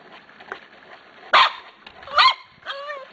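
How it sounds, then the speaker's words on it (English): A few sharp Corgi puppy barks and yips ring out at intervals against a quiet background, the last one rising into a whiny, whimpering tone. "who's barking at me?"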